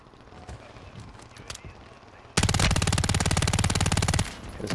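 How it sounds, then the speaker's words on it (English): Rapid automatic gunfire from a first-person shooter game, a loud dense burst of shots aimed up at a UAV, lasting about two seconds after quieter game ambience. "Shooting at UAV."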